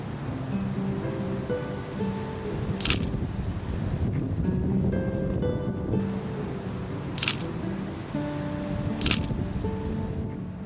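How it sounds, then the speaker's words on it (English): Steady wind buffets the microphone outdoors at Palm Springs City Hall, a constant broadband rush with a few sharp clicks standing out. "It was very windy."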